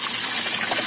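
Running tap water rinsing anchovies: a steady, loud, close hiss and splash of water with no break and no talk.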